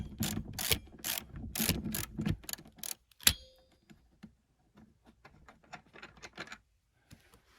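A ratchet wrench loosening the rear seat bolts on a third-generation Toyota 4Runner, a burst of rapid clicking strokes, a sharp clank, then sparser quieter ticks and fiddling.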